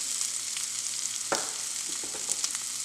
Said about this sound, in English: Next, we're going to add our green onions in there.